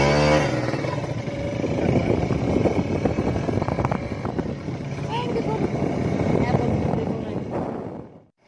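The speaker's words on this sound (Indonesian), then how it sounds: "Kita naik motor ya, guys." Motorcycle ride on a road near a locomotive depot in Cepu, with a steady engine drone and wind rush throughout, fading out at the end.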